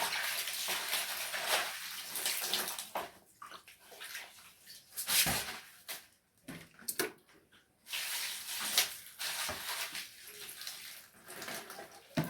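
Shark meat being washed by hand in a basin of water, with sloshing and splashing in bursts separated by brief pauses, close and moderately loud, no talk.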